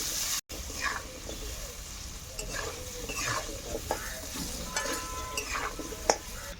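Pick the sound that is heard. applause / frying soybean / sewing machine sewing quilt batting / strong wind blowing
frying soybean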